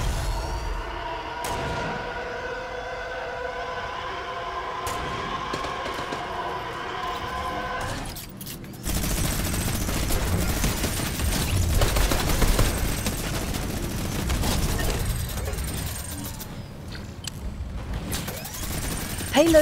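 Machine gun fire in the Fortnite game, with rapid dense bursts crackling loudly through the second half after a calmer, tonal stretch, mixed with game sounds and talking.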